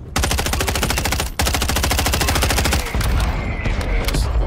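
Rapid automatic gunfire in Call of Duty Warzone, loud and sustained, with a brief break before the bursts resume and scattered impact sounds toward the end.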